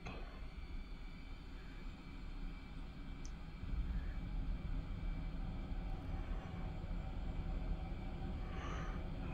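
Twin engines of an F/A-18C Hornet in the DCS flight simulator throttling up, a quiet, steady roar heard from the cockpit that grows slightly louder partway through.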